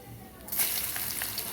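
Mustard, cumin and fenugreek seeds hit hot oil in a pan and burst into a bright, close sizzle and crackle partway through, continuing steadily to the end.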